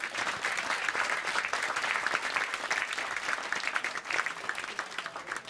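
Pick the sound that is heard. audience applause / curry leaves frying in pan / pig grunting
audience applause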